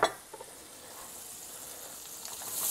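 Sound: butter sizzling in a hot pan

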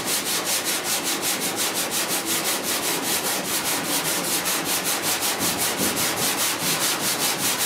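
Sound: block sanding body filler with 80 grit sandpaper

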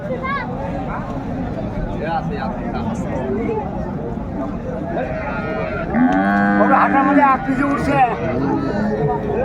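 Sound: cows and calves mooing at cattle market

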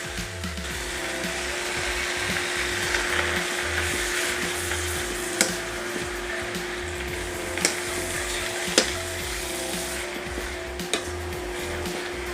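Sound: noodles frying with noodle sauce added in pan

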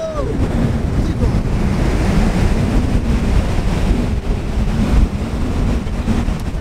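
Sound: ocean waves and surf at Malibu

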